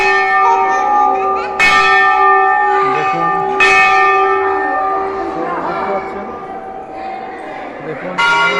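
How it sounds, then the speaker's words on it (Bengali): Bell ringing at a Kali temple in Jagatpur, with two loud clangs and a third near the end, each leaving a long sustained metallic hum, while faint voices murmur in the background. "দেখুন ঘন্টা দেখছেন বাজছে"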